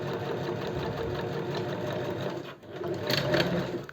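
A domestic sewing machine runs a continuous seam at close range, its fast, even motor whir and needle clatter steady and loud, dipping briefly near the end before picking back up; no speech.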